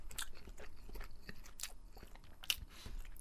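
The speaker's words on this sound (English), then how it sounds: "the skins, Hastings, excuse me, are really quite crunchy, which I like" Faint, crisp bites and crunches into the crunchy skin of a grilled herb pork sausage, several quick crackling snaps with a sharper one near the end, no speech.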